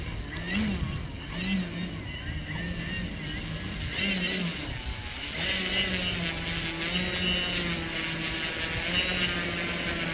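Steady electric whine and buzz of a large 2.0 m Carbon-Z T-28 Trojan RC warbird plane taxiing on a bumpy runway, continuous and fairly close, with people talking over it.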